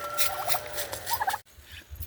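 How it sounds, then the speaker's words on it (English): Backyard turkeys gobble in a few quick rattling bursts, close and fairly loud, with a brief silent gap before quieter farmyard sound resumes. "This year we thought we'd try our hand at turkeys."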